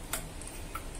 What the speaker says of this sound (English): This is the sound of the relay inside working very smooth